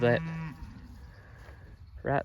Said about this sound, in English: There comes one cow out